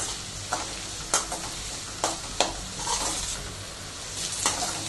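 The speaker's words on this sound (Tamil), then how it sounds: "ஆனியன் போட்டு நல்லா வதக்கணும்" Spring onions sautéing in a pan for Indian-Chinese Gobi Manchurian, with a steady sizzle throughout and a few sharp clacks of the spatula against the pan.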